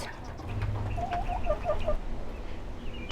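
Several backyard chickens on a small city lot cluck softly in a short run of notes, close by, over a steady outdoor background hum.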